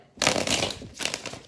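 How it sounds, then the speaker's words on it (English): Tarot cards shuffled for a twelve-card Celtic Cross reading, two quick riffling bursts of papery flutter close to the mic, with a short gap between them. "Last shuffle."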